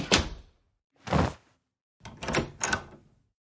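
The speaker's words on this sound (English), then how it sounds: "Close the door and try them on" A door closes with a series of hollow thuds and knocks, several dull bumps spaced apart and then two or three in quicker succession, close and alone.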